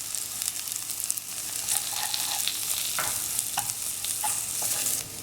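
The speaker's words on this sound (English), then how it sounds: "I'm going to be adding in my onions, pimentos, and peppers" Onions, pimentos and peppers sizzle in hot coconut oil with curry powder, achar masala and jeera, a loud continuous frying hiss broken by a few scraping stirs, close up and without speech.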